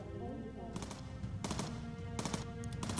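Gunners of a WWII bomber in the video game Bomber Crew firing at an enemy fighter, with short bursts of rapid machine gun fire in two or three clusters over steady background drone.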